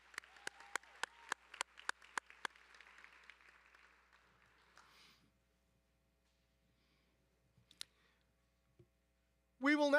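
A commencement audience gives a short round of applause at a spring graduation, with crisp claps for a few seconds that fade to near silence, followed by scattered small sounds and a sudden loud burst at the end.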